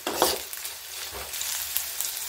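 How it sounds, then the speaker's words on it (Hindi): Grated ginger sizzles in hot oil with browned onion and garlic in a pan for khichdi, a close, steady frying hiss broken by a few spatula stirs, with no talking. "अब इसमें डाल देते हैं अदरक ये कद्दूकस करके रखा था इसको भी दो तीन सेकंड भून लेते हैं"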